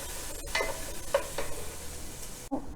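Onions fry in a pan for an Odia-style fish curry with a quiet, steady sizzle, broken by a few scraping stirs and light utensil taps.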